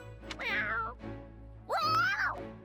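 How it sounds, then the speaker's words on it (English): A cat in the video game Fire Emblem: Three Hopes lets out two long, clear meows a moment apart, each rising and falling, loud and close with no talk. "Well, that was a roaring cat."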